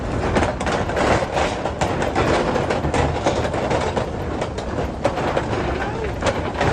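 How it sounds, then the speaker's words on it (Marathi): A rhythmic clattering rumble like a train's clickety-clack as a car rattles over a bridge on a snowy mountain road between Leh and Pangong, loud and continuous, with a voice faintly under it. "कसा रेल्वेसारखा आवाज येईल बघा आता या पुलावशी"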